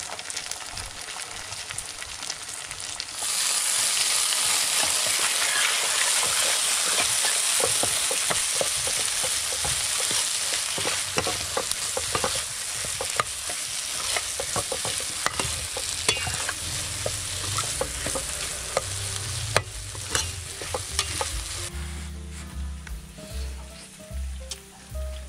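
Kibaw sisig sizzles loudly as it is stir-fried in a pan, a dense steady crackle and hiss that carries on for a long stretch alongside scraping stirs, then eases near the end.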